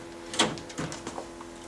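A fiscal receipt printer at a POS station runs in short mechanical bursts, a sharp whirring pass followed by several quicker, softer clicks and feeds, close and moderately loud.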